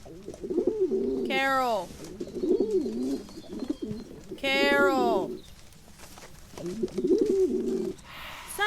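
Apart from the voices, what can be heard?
pigeons cooing in video game Phasmophobia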